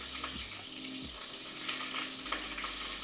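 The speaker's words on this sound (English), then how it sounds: "can you even hear me over that sizzle sound of the duck?" Duck pieces sizzle and crackle in a hot pan for a Thai massaman curry, a steady bright frying hiss with a low background hum underneath and no speech.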